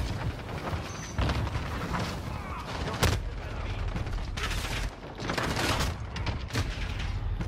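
Gunfire in a first-person shooter video game, with repeated shots and bursts forming a dense, steady barrage throughout and sharper loud cracks standing out near the middle and end.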